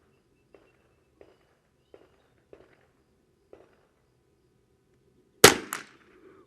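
A Ruger 10/22 Takedown rifle fires downrange. A series of faint, evenly spaced ticks leads up to a loud, close double crack that trails off briefly.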